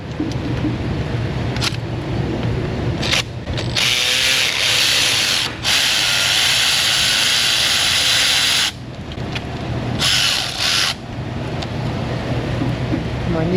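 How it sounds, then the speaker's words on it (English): A 3/8 ratchet turns a bolt on a car in a repair shop, producing loud rapid clicking bursts that start and stop several times over a steady background of shop noise. "Use a 3/8 ratchet. Make sure it's on backup mode."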